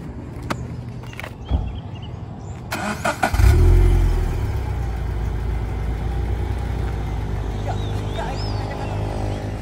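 A Toyota GT86 drifting in a figure 8: the engine starts after a few knocks, then runs loud and revving steadily, close by, with no talk.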